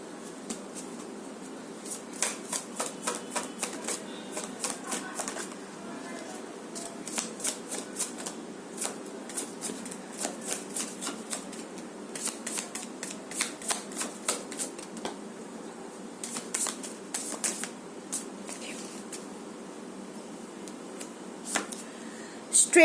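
Tarot cards being shuffled, repeated quick riffling bursts in an irregular rhythm, close and fairly soft, with someone speaking over them.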